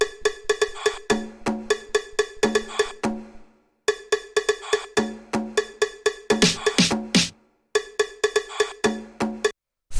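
Disco house percussion loop built from cowbell, breath, bongo and a small snare, repeating in a tight, loud rhythmic pattern with brief gaps between phrases and no voices.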